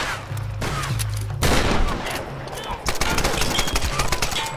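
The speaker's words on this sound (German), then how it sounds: "Ich liege unter Beschuss!" Gunfire in the Tomb Raider video game, with dense bursts of automatic and single shots crackling in rapid volleys across the whole stretch, loud and close, alongside other game sounds.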